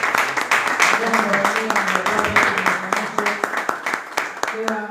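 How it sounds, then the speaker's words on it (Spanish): A church congregation applauds at a men's meeting, rapid dense clapping filling the room while voices carry over it. "Hermano, den un aplauso al Señor Jesús."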